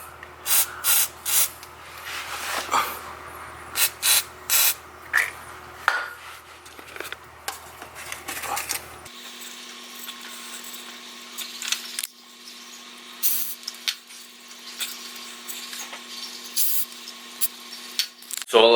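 Short bursts of WD-40 sprayed onto drive shaft bolts of an 80 Series Land Cruiser, a series of brief close hisses with metallic clinks and handling noises in between, and a voice talking at times.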